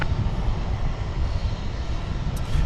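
An American Airlines jet rolls for takeoff on runway 18 left at DFW Airport, a broad, steady engine rumble and roar from a moderate distance, with no one talking.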